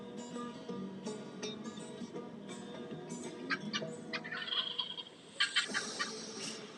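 Wild turkeys gobble in repeated rattling bursts, several calls in a row, some nearer and louder toward the end, ringing out in the open with no talking.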